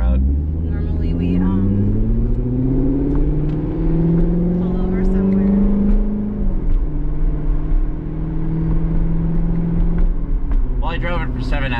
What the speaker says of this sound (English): I wasn't expecting you to let me pull it out of the driveway